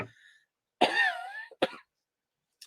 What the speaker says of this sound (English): Sorry, I didn't mute myself for that cough.